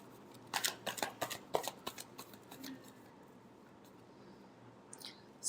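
Tarot cards are shuffled up close in a quick burst of riffling flutters and slaps over about two seconds, then fade to near quiet with a couple of soft handling sounds at the end.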